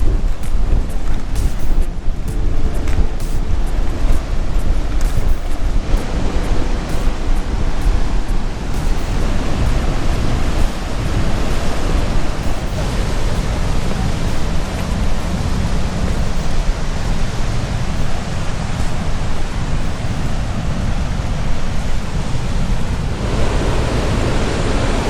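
Southern Ocean surf at Black Point beach, a steady broadband roar of breaking waves with heavy wind buffeting the microphone, continuous and loud throughout with no talking.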